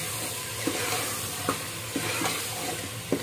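Mutton qorma masala with turmeric sizzles in a pan under a dense, constant frying hiss, with regular spoon scrapes and taps about every half second.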